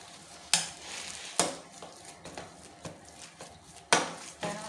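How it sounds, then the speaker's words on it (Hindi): Boiled potatoes are crushed with a hand masher for aloo tikki: about six soft, squelchy thumps at an uneven pace, close and fairly quiet. "आप यूँ मैशर की मदद से इस तरह से आलूओं को मैश कर लें।"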